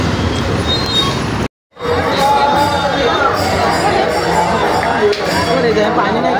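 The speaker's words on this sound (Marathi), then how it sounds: "गर्दी आहे खूप" A busy crowd murmurs at a temple fair near Ratnagiri, with continuous chatter and people talking close by, a brief dropout, and faint traffic in the background.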